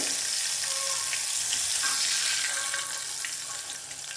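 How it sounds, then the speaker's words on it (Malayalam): Chicken pieces fry in hot oil with a steady, dense sizzle that runs unbroken from start to finish, a few faint clinks rising above the crackle. "അപ്പോൾ ഇതിനെ ഫ്രൈ ആക്കിയിട്ട് എടുക്കാം ഓയിലിൽ."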